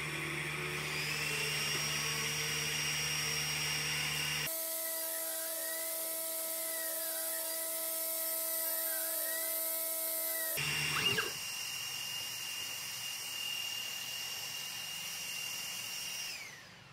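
An AlgoLaser Alpha 22W laser cutter cutting 12 mm birch plywood at full power gives a steady, loud mechanical whine with a bright fan tone. Midway a sharper tonal stretch with sweeping pitches cuts in, then the steady hum returns.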